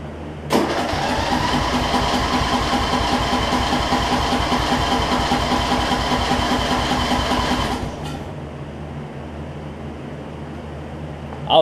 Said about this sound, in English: I'll put this thing back on and we'll see if we can have a good running lawnmower.